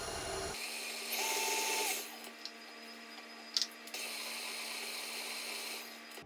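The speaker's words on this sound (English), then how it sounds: "So I'm just going to let this whisk on low and then I'll speed it up." Electric mixer whisking sugar and coconut oil on low speed, a steady close whirring motor hum with a brief louder surge near the start and a couple of small clicks, no talking.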